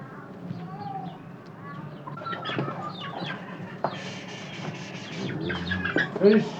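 Chickens cluck on a small family farm kept by Palestinians in exile, where cows and goats are also kept: a busy mix of short clucks and calls close by over steady background noise.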